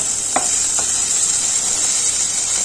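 Shrimp with water lily and black cumin frying in a pan: a steady, loud hissing sizzle throughout, with a couple of faint stirring clicks near the start.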